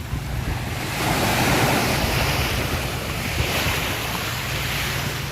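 Strong current and waves surge around an island picnic spot in open water, a loud continuous roar of surf mixed with heavy wind buffeting the microphone, swelling slightly after the first second.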